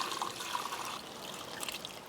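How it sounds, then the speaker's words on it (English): Braising liquid from a barbecue cook is strained off, giving a steady close trickle and splash of liquid that runs on with no break and no talk. "go ahead and strain out all of this braising liquid"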